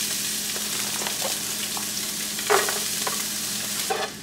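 Shallots and onion sizzle in melted butter in a pan at medium heat, a constant frying hiss broken by repeated soft stirring scrapes.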